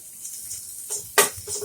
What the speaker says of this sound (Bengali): এই পর্যায়ে এসে দিয়ে দিচ্ছি মুরগির মাংস।